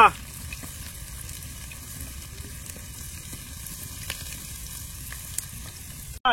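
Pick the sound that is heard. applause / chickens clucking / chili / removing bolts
chili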